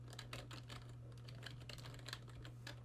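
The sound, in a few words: typing on a computer keyboard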